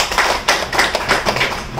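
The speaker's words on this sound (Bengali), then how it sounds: "নতুনদের স্বাগতের জন্য আপনাদের জন্য আমাদের ইএলএস মেম্বারদের পক্ষ থেকে একটা জোরদার করতালি হয়ে যাক" A small gathering claps together to welcome new members at a marketing business meeting, producing brief, fairly loud and close rhythmic bursts of applause.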